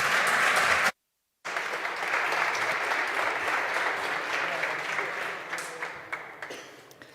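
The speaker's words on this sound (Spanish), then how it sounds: "Un aplauso para ellos" An audience gives full, sustained applause for the OWASP Spain chapter speakers before their OSINT cybersecurity workshop. The sound cuts out briefly near the start, then the clapping continues steadily and thins toward the end.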